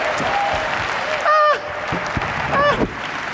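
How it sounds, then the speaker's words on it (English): An audience claps hard on cue at a motivational seminar, a busy layer of clapping broken twice by short tonal bursts, with some vocal sound mixed in. "clap it up really big"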